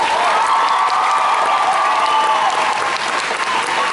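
A large convention audience at a Dragon Con 2015 celebrity panel claps loudly and steadily, a dense, sustained wash of applause filling the hall with faint cheering mixed in.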